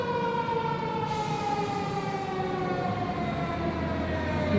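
Siren Head creature's siren call in a horror video game, a sustained wailing, siren-like drone held steadily and moderately loud with a low rumble beneath, no talk.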